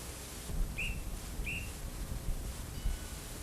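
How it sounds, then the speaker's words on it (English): Two short, sharp guard's whistle blasts sound a little apart over a quiet background hum, moderately distant. "Oops, that's the guard's whistle."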